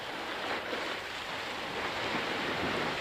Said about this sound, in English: The edges of the water curled over onto the land in white waves.